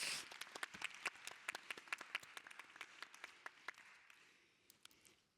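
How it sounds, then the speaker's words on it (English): Polite audience applause at a conference plenary session, a fairly faint patter of individual claps from a seated crowd that thins out and fades over a few seconds. "Let's have a round of applause for that."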